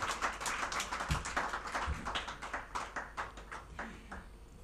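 Audience at a students' award ceremony clapping in a loose, uneven patter of individual hand claps, fairly close, gradually thinning out toward the end.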